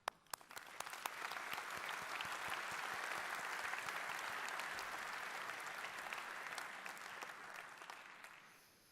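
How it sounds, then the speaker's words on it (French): Sustained audience applause at a Montpellier Métropole New Year's greetings ceremony, a dense wash of many hands clapping that rises quickly, holds steady for several seconds, then tapers off near the end. "mesdames et messieurs, on vous applaudit"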